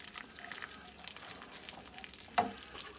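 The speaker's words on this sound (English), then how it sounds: "We're melting the butter nice and slow." Butter melting slowly over gentle heat in a frying pan, giving a soft, steady low sizzle with faint crackles and one brief sharper clatter near the end.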